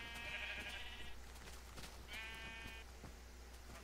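Sheep in the Minecraft video game bleat in two short, harmonic calls, one near the start and another about midway, heard over a steady game background without talk.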